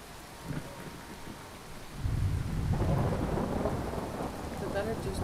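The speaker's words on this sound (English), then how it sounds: "Oh, and it's raining." Steady rain with a low rumble of thunder rolling in from a distance in the video game Relics of Hyrule, the storm swelling partway through and continuing.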